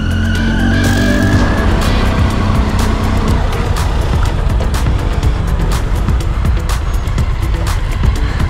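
Adventure motorcycle engine on rocky off-road terrain, loud and continuous throughout with revving swells and rough mechanical noise, close to the microphone.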